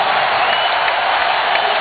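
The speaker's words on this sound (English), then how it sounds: "they're getting the crowd pumped up to it right now" Stadium crowd at an Arkansas vs. Fresno State game, a steady dense roar of cheering and applause, loud and continuous without a break.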